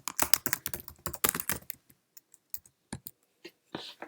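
Rapid clicking keystrokes on a computer keyboard at a Mac desktop, a dense burst of typing followed by a few sparse, separate key taps, close and clear with no talk.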